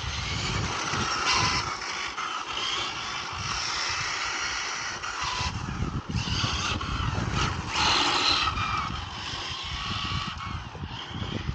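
A Hobao VTE2 RC car driving laps on a track on cold tires, its high-pitched electric whine rising and falling steadily with bursts of acceleration and tire scrub, heard at close to middle distance.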